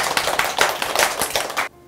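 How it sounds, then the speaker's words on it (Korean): A small group claps in a community soap-making gathering: a brief burst of brisk, overlapping hand claps, close and lively, that ends abruptly after under two seconds. "박수 한번 치죠"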